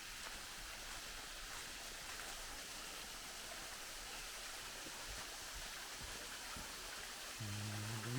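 Forest stream of water flowing steadily, a dense, even rushing wash heard continuously with no voices, and a faint low hum entering near the end.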